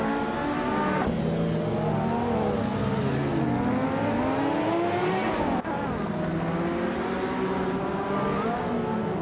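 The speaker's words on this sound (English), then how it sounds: "Elita 403 is driving a Lamborghini Diablo SV from 1997." A 1997 Lamborghini Diablo SV races in a video game, its engine roaring continuously and close, rising and falling in pitch through gear changes, with a sharp shift partway through.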